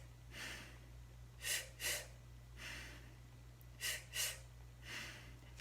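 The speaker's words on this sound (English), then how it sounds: "2 breaths in through the mouth, and then 1 breath out through the nose" A slow breathing drill: pairs of quick, sharp breaths drawn in through the mouth, each pair followed by one longer, softer breath out through the nose, repeating twice over a steady low hum.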